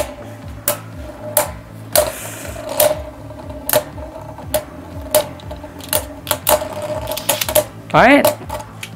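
Beyblade Burst spinning tops battle in a stadium, a string of sharp clacking impacts landing at irregular intervals, with a brief scraping spin near the end, all close and loud while a voice speaks briefly.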